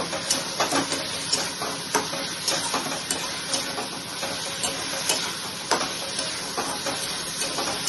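Mutton pieces and whole onions fry in a pan for a Bengali mutton kosha, giving a steady close sizzle with occasional stirring scrapes and clinks, no voices.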